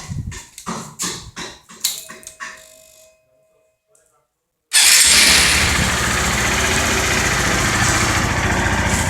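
An engine with its stock, unmodified exhaust rumbles loudly and steadily at idle after a few choppy bursts and a short near-silent gap, continuing evenly to the end.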